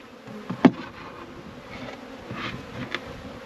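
Faint, steady insect buzzing with a few louder passes close by, bees moving about in a quiet outdoor setting.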